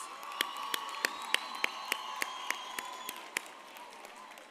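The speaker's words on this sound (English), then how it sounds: "Let's all give them a big round of applause." Scattered applause from a graduation ceremony audience, with sharp individual claps standing out over a soft wash of clapping that slowly fades.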